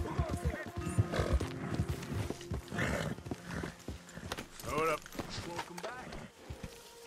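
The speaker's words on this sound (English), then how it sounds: "ahí tenemos a mi caballo" A horse in the Red Dead Redemption video game snorts and whinnies with hoof clops amid game ambience, while someone talks over it in Spanish.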